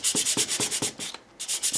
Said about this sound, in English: This is 320 grit. I really do like it. And when you're sanding,